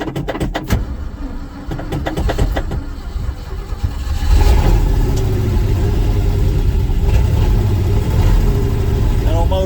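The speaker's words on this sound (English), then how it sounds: "That old motor's getting louder all the time." A 1971 Ford F100 with a 360 FE V8, abandoned 39 years, cranks amid clattery knocks, then settles into a loud, steady rumbling run from about four seconds on, with a faint voice underneath.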